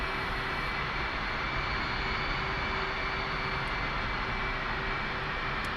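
An F/A-18C jet engine roars at takeoff in the DCS flight simulator, a loud, steady, broadband roar with a constant whine tone running throughout and no talk.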